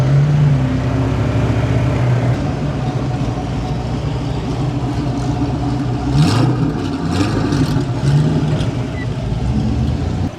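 A Spiker race car rolls past at a Festivals of Speed derby-edition car show at the World Equestrian Center, its engine a steady, fairly loud roar that swells and shifts pitch around the middle before easing away.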